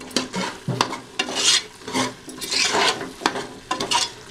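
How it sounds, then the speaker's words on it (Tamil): Beef biryani ingredients sautéing in a pan, with a steady sizzle broken by repeated scraping stirs and clatter at close range, no voices. "நல்லா வதங்கிட்டே இருக்குங்க"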